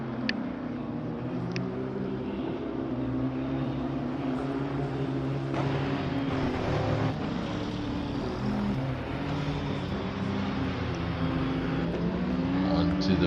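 Racing cars in a sim racing game sweep around the Parabolica curve at Monza, their engines blending into one steady, loud, continuous drone that holds for the whole stretch with no speech.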